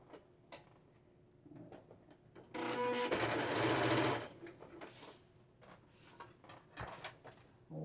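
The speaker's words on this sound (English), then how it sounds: "just excuse me while I go to my machine, and I'm going to sew this" A sewing machine stitches the sleeve fabric of a doll, giving a sustained loud whirring run of about a second mid-clip, framed by quieter clicks and handling noises nearby.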